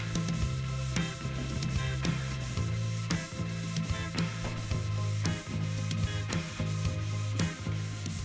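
Hand sanding wood with 180 grit sandpaper, close rhythmic back-and-forth rubbing strokes repeating about once a second, with a low hum underneath.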